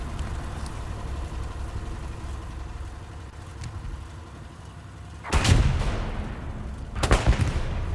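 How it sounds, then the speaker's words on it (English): Sharp ricochet cracks ring out twice in the later seconds during a Hell Let Loose battle, cutting through a steady low rumble of tank engine and distant combat. "Ricochet from somewhere."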